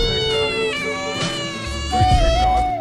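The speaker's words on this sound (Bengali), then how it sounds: "আরে এই তো বিড়াল আসছে, আজকে তার সাথে মজা নেব।" A cat meows loudly and close by in drawn-out, wavering calls, one long cry running into another with no other sound competing.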